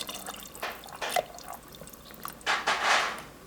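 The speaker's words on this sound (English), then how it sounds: "I'm gonna add a little more bone broth here" Bone broth poured into a cooking pot, giving a few soft splashy bursts of liquid, the last one longer and fuller, with quiet gaps between them.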